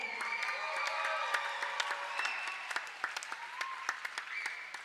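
A roller derby crowd at a junior bout applauds its volunteers, with sustained clapping from many hands filling the hall, moderately distant, with a few sharper claps near the end.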